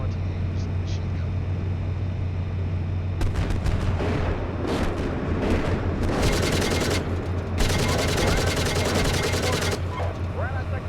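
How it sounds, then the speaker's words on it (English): Tank machine gun firing in Steel Beasts Pro, long rattling bursts of rapid automatic fire over a constant engine drone, close and loud, with brief pauses between volleys. "I want to use the machine gun."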